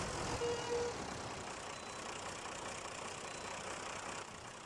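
A tractor engine idling in the video game SnowRunner on PS4, a steady mid-pitched diesel rumble with faint knocking, constant and close throughout without voices.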